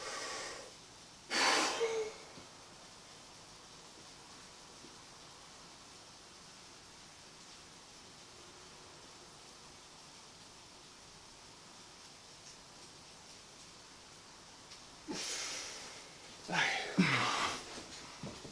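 Deep breaths during a stomach vacuum exercise come as two loud, rushing bursts of air, one early and one near the end, separated by a long quiet stretch.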